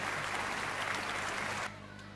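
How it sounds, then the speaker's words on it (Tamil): An audience at a school's 33rd anniversary celebration in Villivakkam applauds loudly in a dense, even burst of clapping that cuts off sharply after about a second and a half, leaving faint room noise. "பலத்த கரகோஷத்துடன் நன்றி"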